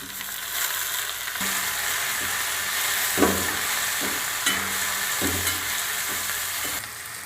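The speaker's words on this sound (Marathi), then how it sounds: "टोमॅटो आता आपलं छान परतले आहे" Tomatoes and onion sauté in a pan for a Maharashtrian sandgyachi bhaji, a steady moderate sizzle with intermittent soft scrapes and taps of a spoon stirring.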